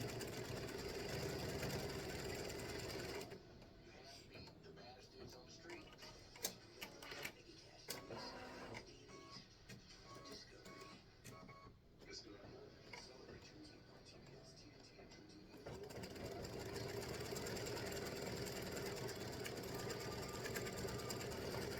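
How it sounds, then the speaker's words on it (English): A sewing machine stitches baseball bases and a pitcher's mound onto a fabric tic-tac-toe game board. It hums steadily and faintly for over twenty seconds, with its tone and loudness shifting partway through. "So it's going to stitch all the bases and the mound, the pitcher's mound, in the center."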